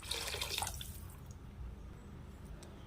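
Water is poured into a pot of rice and cowpeas for a one-pot rice dish, a soft splashing that is strongest at the start and fades to a quiet trickle.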